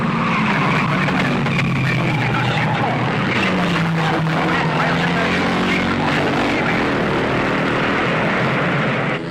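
Race cars from a 1954 road race roar past with loud, sustained engine drone and tire skidding, dense and continuous throughout, with faint commentary beneath.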